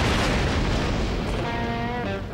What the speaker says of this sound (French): Une explosion en plein désert.